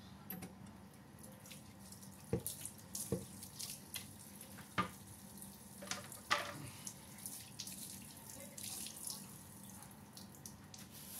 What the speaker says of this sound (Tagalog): ugas natin ito para maayos.